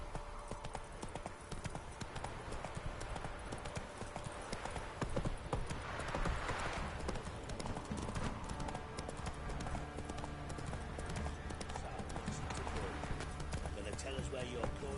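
Roach, a horse in The Witcher 3, gallops with rapid clip-clop hoofbeats over game music and ambience, at moderate loudness throughout.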